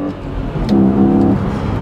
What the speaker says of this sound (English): Last video, I performed the sound generator modification for my BMW Z4, and it sounded brilliant.